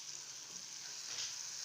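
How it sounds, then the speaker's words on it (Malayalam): Tomatoes sizzle in hot oil in a pan while being sautéed for a Kerala-style coconut dal curry, a steady soft crackling hiss without talk. "ഈ എണ്ണയിൽ കിടന്ന് തക്കാളി നന്നായിട്ട് വാടി കിട്ടുന്നത് വരെ നമുക്കിതൊന്ന് വഴറ്റി കൊടുക്കണം"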